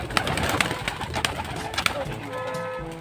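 Racing pigeons on a training flight in Pangasinan, with close soft coos and wing flutters in short bursts over outdoor background noise.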